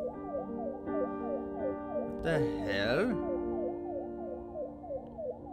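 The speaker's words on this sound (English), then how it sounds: "I hear sirens." An ambulance siren in the Final Nights 3 video game wails in a steady, repeating up-and-down pattern, loud and close, while a person briefly exclaims over it.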